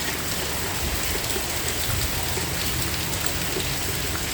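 Heavy rain with strong monsoon wind at Pattani harbour in southern Thailand, a dense steady roar of downpour with gusting wind noise, continuous and loud throughout with no talk.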